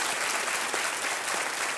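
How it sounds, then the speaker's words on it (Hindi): A KBC game show studio audience applauds, a dense, steady wash of clapping filling the whole short stretch with no voices over it. "तालियां बजाएं इनके लिए।"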